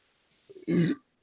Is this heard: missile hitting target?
no